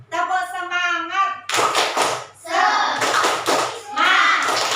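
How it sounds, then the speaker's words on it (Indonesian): A fourth-grade elementary class does the teacher-led 'tepuk semangat' clapping chant: children's voices chant in unison while bursts of rhythmic group hand claps come in close and loud, stopping and starting between chant phrases. "Tepuk 1, tepuk 2, tepuk 3. Tepuk semangat."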